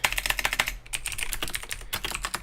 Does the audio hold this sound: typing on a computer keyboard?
yes